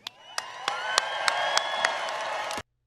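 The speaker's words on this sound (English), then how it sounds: "And people clap for that, by the way." An audience applauds and cheers at a political rally, a steady wash of clapping with a few sharper hand slaps punctuating it, then cutting off abruptly into silence.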